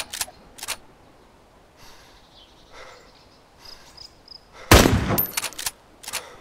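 Gunshots in the video game DayZ come as a few sharp, close cracks in a quick burst near the end, with scattered fainter shots earlier over a quiet background.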